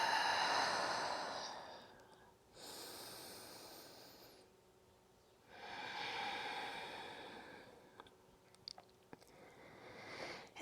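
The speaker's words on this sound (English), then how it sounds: "and breathe" Slow, deep breathing during a yoga pyramid stretch, heard as two long airy breaths, an inhale followed by a longer exhale, close and soft, with faint small noises at the end.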